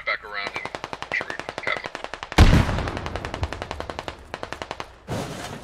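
Rapid automatic fire from British guns in a large-scale Squad multiplayer battle, long rhythmic bursts of close shots with a loud blast partway through and more firing after, heavy and continuous.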